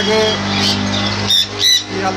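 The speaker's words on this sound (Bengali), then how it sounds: "এই পাখিগুলো দোকানেতে আছে" Pet conures, including sun and pineapple conures, squawk in a bird shop, with a few sharp, loud calls in quick succession close by.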